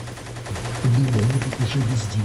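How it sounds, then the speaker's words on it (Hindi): Gunfire rings out in fighting in a residential area of Avdiivka, Ukraine, as a series of rapid, rattling shots heard under and around a voice-like droning layer. "रिहायशी इलाके में ताबड़तोड़ फायरिंग, जबरदस्त जंग चल रही है अभी"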